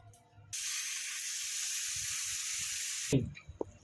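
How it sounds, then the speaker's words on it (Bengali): Pressure cooker on a gas stove cooking thin mutton curry with potatoes, releasing a loud, steady hiss of steam for about two and a half seconds before cutting off, followed by faint clatter, close and with no talking. "এবার আমি গ্যাসের মধ্যে এটা বসিয়ে দিলাম আর একখানা সিটি দেব আমার রেডি হয়ে যাবে"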